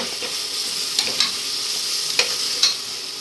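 Green chillies fry in oil with onions and ginger-garlic paste for mutton biryani, a steady sizzle broken by several sharp clicks and scrapes of a spoon stirring the pan, close with no voices.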